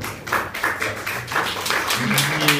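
An audience at an Italian poetry reading claps in a quick, uneven burst of close, dry hand taps lasting a couple of seconds, with no talking over it.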